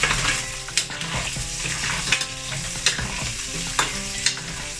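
Scallion, garlic and ginger fry in a pan with a continuous bright sizzle, broken every second or so by sharp stirring clatters of a utensil against the pan. No voices.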